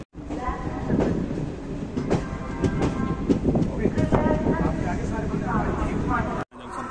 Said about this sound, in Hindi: ये हमारी ट्रेन चल दी है